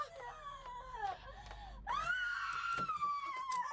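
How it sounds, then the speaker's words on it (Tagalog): A woman screams in a long wailing cry in a home setting, first in shorter rising and falling bursts, then in a louder, sustained, strained scream that holds for nearly two seconds, close and alone without speech. "Bakit sumisigaw si Alona?"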